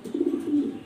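An imported black Danish male pigeon coos in a short, soft, low throaty burst, close by and alone.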